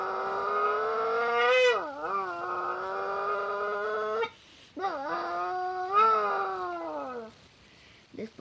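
A human voice imitates a Ferrari engine through a can, a loud nasal buzzing drone that rises in pitch, drops sharply as if shifting gears, then climbs again, with a short pause between runs.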